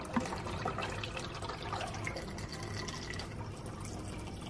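D96 black-and-white film developer being poured out quickly while developing film at home, a steady rushing liquid pour lasting several seconds with no talking.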